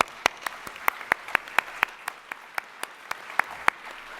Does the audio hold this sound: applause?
yes